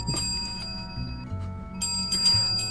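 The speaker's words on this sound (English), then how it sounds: "I'm probably just gonna ring the bell. Vigorously." A handbell rung hard and fast, a steady metallic jangle of bright overlapping strikes lasting a few seconds with no talking over it.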